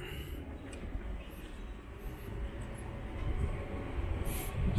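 A train passes Wen'an railway station, a closed station with locked exits and suspended passenger service, as a steady low rumble of wheels and cars that grows slightly louder toward the end, with no voices.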